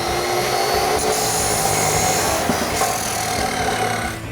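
A power saw cuts steadily through a clamped Flowmaster Outlaw dual exhaust pipe for a Ford F-150 EcoBoost, giving a continuous loud, harsh whine with a few brief clanks and no talking.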